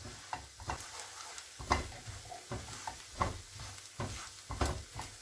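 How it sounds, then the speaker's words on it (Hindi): Flour being stirred and roasted with lightly fried onions in a pan for chicken croquettes, soft frying sizzle under repeated close scraping stirs, quiet and without talk. "इसमें अब हम लोग डालेंगे मैदा और इसको अच्छे से भूनेंगे।"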